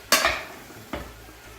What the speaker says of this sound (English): So now, I'm just going to stir it around a little bit. Get all the onions through, get all the meat through.